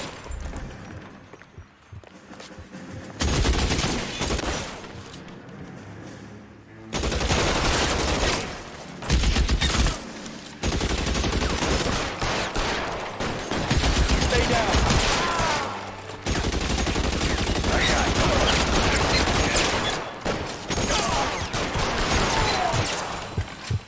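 Gunfire in the video game L.A. Noire: repeated loud bursts of shots and crashing impacts through most of the stretch, with brief lulls between volleys and voices talking over parts of the fight.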